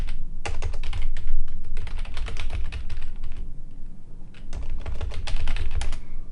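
Rapid, continuous clatter of keys on a computer keyboard as country names are typed, close and fairly loud, with brief pauses between bursts of keystrokes.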